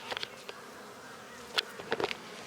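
Honey bees buzz around a spring hive, a faint steady drone with occasional louder passes of individual bees near the microphone.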